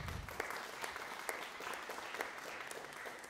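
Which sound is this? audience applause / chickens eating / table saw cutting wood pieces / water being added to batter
audience applause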